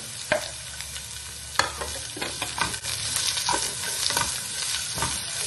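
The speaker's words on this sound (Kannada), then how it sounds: "ಈಗ ಚಿಕ್ಕದಾಗಿ ಕಟ್ ಮಾಡ್ಕೊಂಡಂತ 2 ಈರುಳ್ಳಿಯನ್ನು ಸೇರಿಸ್ಕೊಳ್ತಾ ಇದ್ದೀನಿ" Two finely chopped onions sizzle and fry in hot oil in a pan, a steady crackling sizzle broken by scraping stirs and small pops, fairly faint and close, with no talking.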